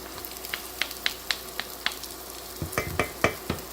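Tomato paste and chopped garlic cook in a hot pan while a spoon stirs them. Sharp scraping clacks come in an uneven rhythm over a soft, low sizzle, grouped more tightly toward the end.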